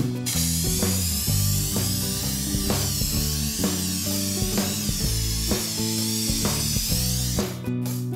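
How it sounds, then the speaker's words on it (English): A spray can hisses steadily as a primed cheese grater is coated in light green pistachio paint, a continuous close spray under background music with faint tool-like clicks. "you can pick whatever color you want to spray it"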